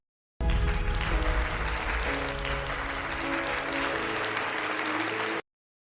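Sustained applause from a ceremony audience greeting the CEO of Junhan Bio at the launch of the company's new diabetes drug, steady and dense for about five seconds, with music tones running underneath.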